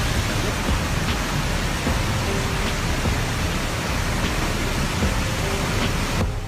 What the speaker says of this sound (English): creating a spontaneous waterfall that cascades into a deep ravine right along the road